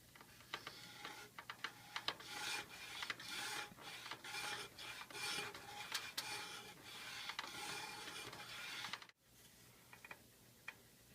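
A grooving tool drawn along the surface of an Asiatic composite horn bow makes a continuous rasping scrape in repeated strokes, fairly quiet, ending abruptly near the end with a few faint ticks after.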